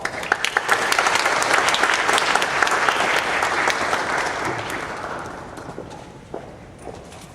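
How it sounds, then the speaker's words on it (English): Warm audience applause after a speaker's introduction at a university event, a dense steady wash of clapping that gradually thins and fades out over about seven seconds. "I would like to welcome her with a warm round of applause"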